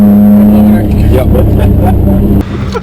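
A car accelerates hard with a loud, roaring engine note, hauling so fiercely it nearly lifts the front tire, while people talk over the noise close by.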